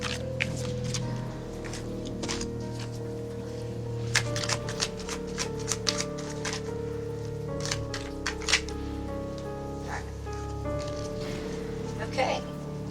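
A deck of tarot cards is shuffled by hand, giving repeated crisp riffling clicks and snaps over several seconds, heard under a person talking, with a steady tonal hum behind.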